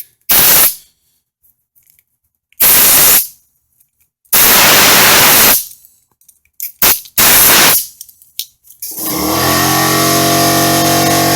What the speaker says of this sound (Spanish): Este es mi compresor al fondo con ruido.